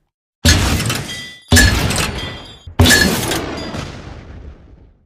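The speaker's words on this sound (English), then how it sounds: "rocket launcher, I prefer to make this gun sound have a strong mechanic like a metal type sound than loud explosion" Game rocket launcher shots with a metallic, mechanical tone rather than a big explosion: three loud, sharp bursts in a row, each with a bright clanking attack and a long ringing decay.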